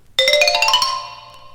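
Chimes struck in a quick ringing run of bright metallic tones, close and clear, the last notes sustaining and slowly fading with no voices.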